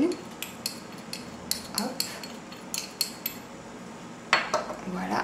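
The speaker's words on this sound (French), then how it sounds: "je vais ajouter chaque poudre une à une et je vais mélanger" A utensil stirring allantoin powder into a warm cosmetic mixture at about 45 degrees, heard as a run of quick bright metallic taps and scrapes against a container, with one brief spoken word.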